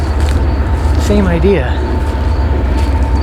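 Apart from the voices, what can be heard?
passing train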